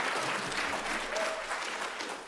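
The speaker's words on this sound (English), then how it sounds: "give her a round of applause" A crowd on a conservative podcast breaks into a round of applause, a steady, fairly loud patter of many hands that carries on throughout and eases off slightly toward the end.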